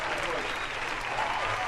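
A live show audience applauds in a steady, dense wash of clapping that fills the whole moment, with a faint murmur of the crowd beneath.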